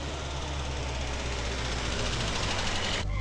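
A vehicle engine runs steadily with a loud low rumble and broad noise before cutting off abruptly near the end, close by, with no talk over it.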